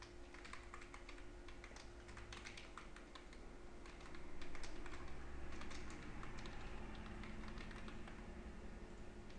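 Steady typing on a computer keyboard while filling in an online application form, a continuous close patter of key presses with no talking.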